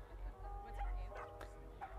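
Several dogs, Whippets among them, bark and yip at a busy dog park, a few quick, close barks and whimpers over a low rumble of outdoor background noise.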